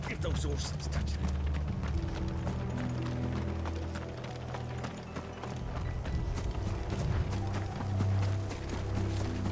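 Horses' hooves clip-clop rhythmically in Final Fantasy XVI, a steady running patter mixed with mechanical clanking and game sounds, while voices speak over it.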